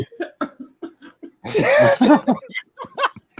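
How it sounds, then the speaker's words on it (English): A loud, close cough into a microphone bursts out mid-clip, set between snippets of casual talk. "coughed in the mic"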